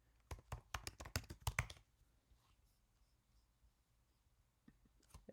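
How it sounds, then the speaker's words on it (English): A password is typed on a computer keyboard while logging in to a BIG-IP configuration utility: a quick, close burst of crisp keystrokes for under two seconds, then near silence with a couple of faint taps at the end. "I'll type a password in."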